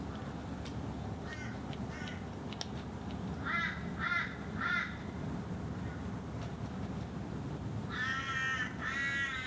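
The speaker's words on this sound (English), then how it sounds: "The crows are ridiculous." Crows caw in Brisbane in several bursts of harsh repeated calls, loud and fairly near, over a steady background rumble of traffic or city noise, with no talking.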